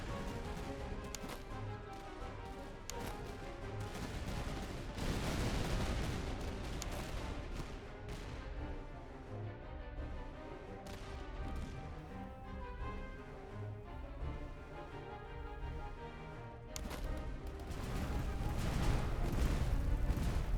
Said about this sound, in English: These guys are just firing as they get in range.